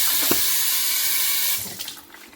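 Water pours from a small home water filter's tap into a glass, a full steady splash that drops off and trickles quietly in the last second.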